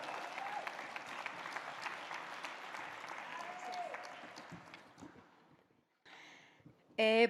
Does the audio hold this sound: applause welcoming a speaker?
yes